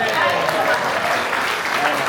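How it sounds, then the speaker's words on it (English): Audience applause at the eXpcon 2025 real estate conference, a brief, dense burst of many hands clapping at a steady level throughout. "Now you can clap."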